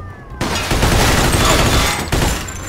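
Rapid gunfire in the Mafia 2 video game, a loud, dense burst of continuous shots starting abruptly and running nearly three seconds with a brief renewed burst, close and dominant.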